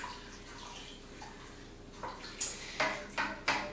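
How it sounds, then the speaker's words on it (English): A spatula scrapes browned bits from the bottom of a pan after stock is poured in for a Hatch green chile stew in a pressure cooker, giving several short wet scraping strokes over a faint liquid hiss. "we scrape up all those brown bits from the bottom of the pan."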